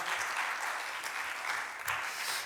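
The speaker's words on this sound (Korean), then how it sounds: "하나님께 감사와 영광의 박수 올려드릴까요?" A church congregation claps together in steady, dense applause that fills the room, sustained at full strength from start to finish.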